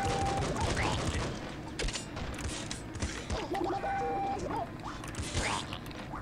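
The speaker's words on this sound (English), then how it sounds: "I shot the disc gun in there." Disc gun shots in the top-down shooter Nuclear Throne, a busy run of sharp metallic clanks and ratcheting bursts mixed with other game effects, dense and continuous over a chaotic soundtrack.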